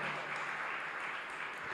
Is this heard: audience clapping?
yes